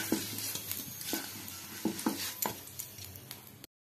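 Potatoes stir-fried in hot oil in a pan give a quiet sizzle, broken by repeated scraping and clinking from stirring, close and fairly soft for a few seconds.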